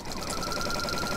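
A sewing machine stitches through layered rag quilt fabric, a steady, rapid mechanical whir with a continuous tone held close and even across the short stretch, with no voices over it.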